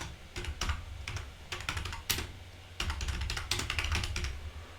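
Fingers typing Python code on a computer keyboard, close and fairly quiet, with clusters of quick key clicks separated by brief pauses and an irregular rhythm, no speech.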